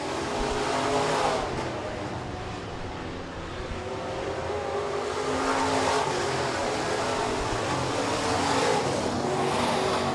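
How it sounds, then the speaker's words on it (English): B-Modified race cars roar around the track at Rapid Speedway as a heat race finishes, engines droning continuously with swelling passes over the crowd and PA ambience. "Miles Bean has one lap to go. Can he jump up one more spot? Checkers fly."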